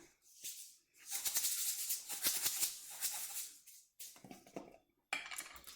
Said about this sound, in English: 2 teaspoons of cumin seeds into the clean bowl and 2 teaspoons of mustard seeds